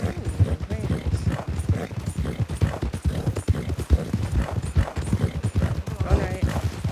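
A foxtrotter horse's hooves clip-clop at a steady rhythmic pace in the Red Dead video game, close and continuous, with people talking over them.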